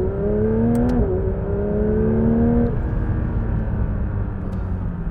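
A Porsche 992-generation 911 GT3 RS engine blips and drops in pitch through a rapid run of downshifts from fifth to first under braking, heard steadily and fairly loud from inside the car.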